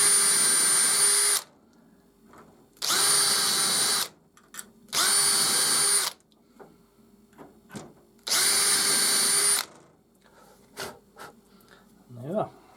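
A power drill countersinks a hinge hole in four short whirring bursts separated by pauses, close by, with faint handling noises and brief talk in between.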